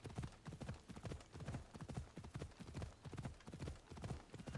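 A horse gallops in Assassin's Creed Odyssey, its hooves beating a steady rapid clip-clop rhythm throughout, quiet and even, with no talk over it.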